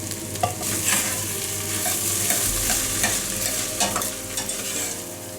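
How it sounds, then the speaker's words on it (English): Spoon stirring cooked rice through onion masala in a hot pan, steady sizzling and frying with repeated scraping strokes, close and loud. "as I have mixed the rice with the masala"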